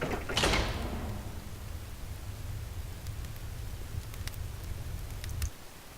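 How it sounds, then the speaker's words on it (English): A dungeon door in the Legend of Grimrock video game slides open with a single near, loud grinding rush, followed by a low rumbling scrape that holds steady for several seconds before stopping abruptly. "And the door opens."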